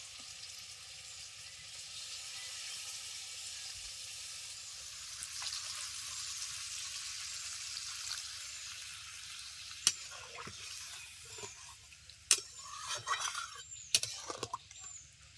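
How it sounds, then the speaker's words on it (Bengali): Hot water goes into a spiced fish curry as it fries. A soft continuous sizzle gives way near the end to sharp hissing spurts and a few light clinks from the pan. "এখন দিয়ে দিচ্ছি গরম জল"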